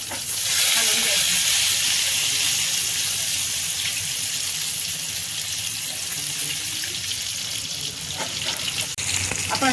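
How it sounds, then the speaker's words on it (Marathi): Stuffed brinjals for khar wanga, a dish made with green chilli masala, sizzle in a cumin and curry-leaf tempering. A loud, continuous frying hiss runs close and steady throughout. "कढीपत्ता टाकायचा आहे आणि थोडंसं जिरे टाकायचं आहे फोडणीला तुटले ना की आपण ही भरलेली वांगी त्यामध्ये ॲड करणार आहोत"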